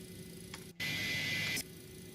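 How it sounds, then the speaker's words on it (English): An American Airlines MD-82 in a flight simulator, with the APU on and an engine being brought back. A steady mechanical hum carries through, cut by a sharp click and then about a second of louder, rushing whine. "let me just do the APU back on and get the engine back in"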